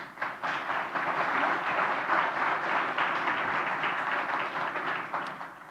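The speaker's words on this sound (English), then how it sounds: "Let's give them a round of applause." Audience applause at a business forum on the global economy with Spanish, American and Latin American leaders, a sustained moderate wash of many hands clapping that swells quickly and fades near the end.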